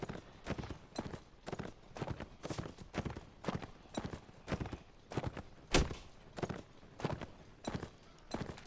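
Horse hooves clip-clop in the Mount & Blade: Warband video game, a steady rhythmic run of sharp, close hoofbeats with one heavier thud partway through.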